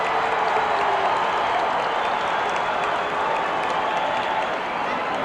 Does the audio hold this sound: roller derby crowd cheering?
yes